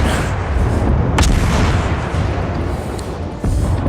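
Naval guns of a destroyer firing during a World of Warships battle, repeated heavy booming blasts over a constant rumbling battle din, loud and close.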